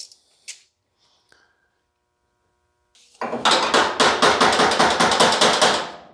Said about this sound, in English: All I'm doing is just forming the sheet metal up and around it